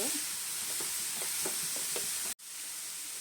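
Grated carrots fry in a pan for carrot halwa, giving a steady soft sizzle with a few light scraping stirs, fairly faint, before the sound cuts out briefly near the end.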